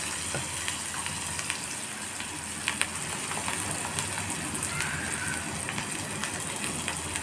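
Spices sizzling in hot oil for a drumstick curry, a steady crackling fry with occasional pops, moderately close and continuous throughout.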